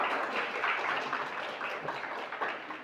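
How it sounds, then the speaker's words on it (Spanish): Church congregation applauding the Lord during a worship service, a steady dense wash of hand claps that carries on without pause, fairly distant and moderately quiet, with no clear talking. "le da un aplauso al Señor."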